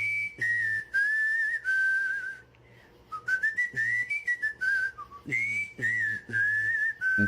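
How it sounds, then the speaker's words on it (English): A man whistles in an unusual, warbling style, with a sliding melodic line in short phrases broken by brief pauses. The whistling is clear and close, with no talk. "I found this guy that knows how to whistle in a really weird way."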